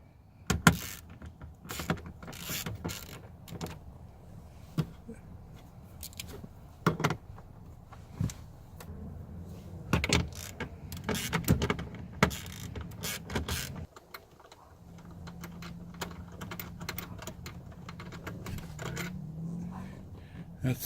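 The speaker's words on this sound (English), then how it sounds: "you've got to remove these upper bolts. There's two here, two there. Those are on 10mm" A 10mm socket loosens the rear seat bolts in a Grand Prix car, with irregular close clicks, clunks and creaks from the ratchet and metal parts, and a brief low whirring hum near the end.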